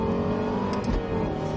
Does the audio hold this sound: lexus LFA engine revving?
yes